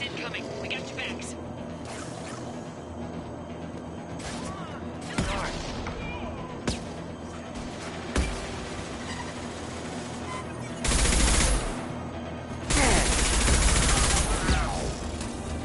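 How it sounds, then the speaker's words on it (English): Impact gun firing in a shooter video game: a string of sharp, punchy blasts spaced irregularly, with two longer, louder bursts near the end over a busy background of battle noise. "Firing an impact gun."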